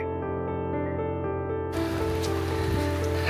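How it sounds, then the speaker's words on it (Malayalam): Sustained tonal music plays, then a broad hiss of falling rain in the hills abruptly swells in and continues steadily beneath it. "അയ്യോ മഴ പെയ്യുന്നു"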